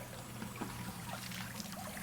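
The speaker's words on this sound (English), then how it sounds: "It's dumping water out like crazy." Water pours from a custom-built bilge pump outlet, a steady faint trickling and splashing stream that runs without a break for about two seconds.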